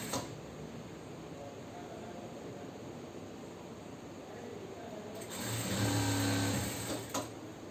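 Sewing machine stitching a ruffle frock, a faint steady whir beneath a hiss of background noise that swells into a louder, brief hum of stitching near the end.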